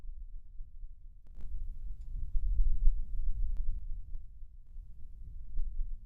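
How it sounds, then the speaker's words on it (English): Low, muffled throbbing pulse like a heartbeat runs steadily through ambient game audio, with a few faint ticks and clicks above the hum and no voices. "In the background, there's a sound of maybe a heartbeat of some sort, or it could just be some ambience to the game."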